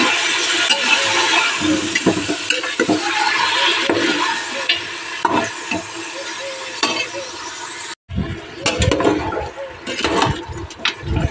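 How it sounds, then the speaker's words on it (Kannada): Chicken stir-frying in a pan for Mandya-style egg and chicken sambar, a loud continuous sizzle with repeated stirring scrapes, briefly cutting out near the eight-second mark and then resuming closer and choppier. "ಚಿಕನ್ನ ಯಾವ ಥರ ಹುರಿಬೇಕು ಅಂದರೆ ಅದು ನೀರಿನ ಅಂಶ ಎಲ್ಲ ಸೀದೋಗಬೇಕು"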